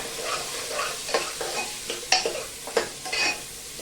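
Vegetables for masala rice are stirred in a hot pan. A constant sizzle runs throughout, and loud scraping strokes of the spoon come every half-second or so, close up.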